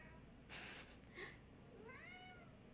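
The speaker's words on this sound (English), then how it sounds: "can you hear my cat meowing in the background?" A cat meows softly a couple of times in the background, faint and distant, with a brief rustle or clatter before the calls.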